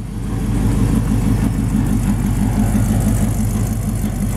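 A 1972 Chevrolet C10 short-bed pickup with a ZZ4 350 V8 runs at a steady, throaty idle with a loud, even low rumble, heard close and alone.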